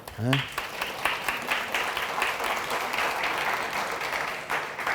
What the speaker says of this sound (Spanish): Tenemos que darle un aplauso a los de audiovisual.